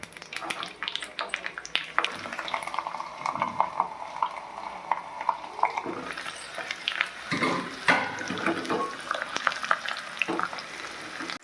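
Garlic frying and being stirred in hot oil in a pan while making amla pickle, a steady sizzle with scraping stirring strokes throughout, fairly close and moderate in level, with a few faint voice sounds.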